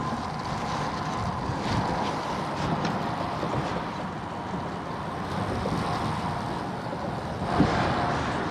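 Steady rushing wind buffeting a microphone while out cycling on a ride with a favorable tailwind, continuous broadband noise at moderate loudness with no talking.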